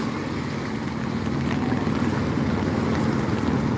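A boat moving through stormy, wave-tossed sea, heard as a loud, steady roar of wind and engine rumble mixed with rushing water, unbroken and close throughout with no voices.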